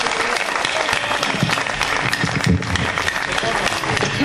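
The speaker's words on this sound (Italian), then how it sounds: "un applauso a Pantaleo" Loud, sustained applause from an outdoor crowd at a local political rally in Pisignano, dense steady clapping filling the whole stretch without pause.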